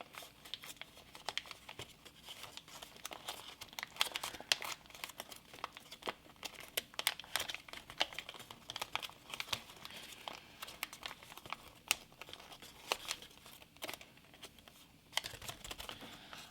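Intermediate origami turtle being folded and creased by hand, a dense run of close paper crinkles and crisp rustles with brief sharper snaps scattered throughout, no voice.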